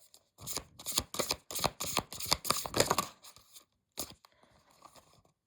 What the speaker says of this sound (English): They're very hard to shuffle, though.